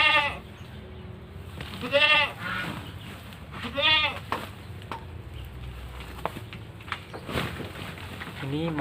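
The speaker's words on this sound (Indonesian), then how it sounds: "aku mau kasih makan kambingnya dulu gitu kan." Goats bleat at feeding time on a farm, three or four separate wavering cries spaced a couple of seconds apart over quiet background, with a brief voice in between.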